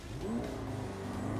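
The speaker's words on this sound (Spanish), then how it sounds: "Vamos a hacer una prueba de aceleración." A 2022 McLaren 720S with a V8 engine launching under launch control on a straight, its engine note rising steadily in pitch as it accelerates, loud and sustained.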